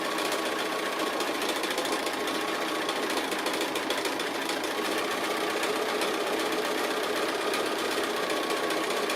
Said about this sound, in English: it gives it extra reinforcement with that extra line of sewing